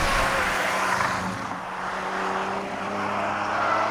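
A Porsche Macan Turbo SUV accelerates hard on a race track in third gear, its engine a loud, sustained roar with steady droning tones that swell and ease slightly, with no talking.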